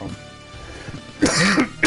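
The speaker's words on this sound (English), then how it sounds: "Excuse me, I got this silly cough." A single harsh cough bursts out near the end after a quiet stretch with faint low murmuring, close to the listener, during Castlevania: Symphony of the Night gameplay.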